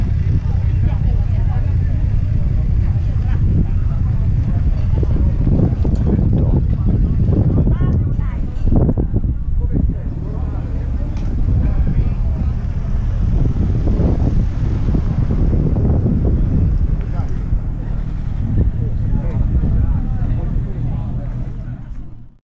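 Motorcycle ride on the Passo del Muraglione mountain pass road in Italy, with steady loud wind buffeting the microphone and a low engine drone throughout, fading out at the end.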